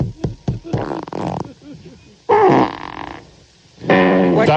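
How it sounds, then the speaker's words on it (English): Farting in a toilet stall: several short, sharp bursts at the start, then two longer, louder, buzzing blasts, with a voice murmuring in between. "Stop farting."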